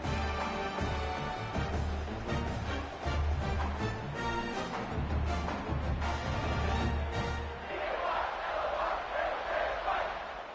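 A football stadium crowd buzzes after a late touchdown, a broad sustained roar carrying under a commentator's continuous play-by-play.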